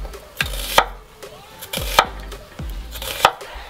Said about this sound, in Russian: Вот таким вот образом нарезаем весь лук.